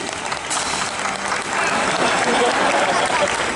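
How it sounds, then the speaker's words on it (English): A theater audience at a special effects show at Universal Studios Hollywood applauds loudly and steadily, a dense wash of clapping that swells slightly and holds throughout with no talking. "Let's give a round of applause for Mr. Joel Coriel, Mr. Matt Coates, and th"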